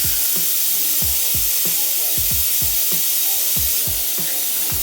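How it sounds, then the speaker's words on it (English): Pressurised gas hisses steadily out of a beer fermenter after its spunding valve is removed, a continuous close, loud spray-like rush with faint repeated knocking underneath. "Let's get that pressure out of there."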